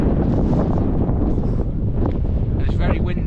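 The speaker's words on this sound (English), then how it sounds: "and it's very windy." Strong wind buffets the microphone on a maintained valley hiking track, a continuous loud roar and rumble that swells in gusts throughout.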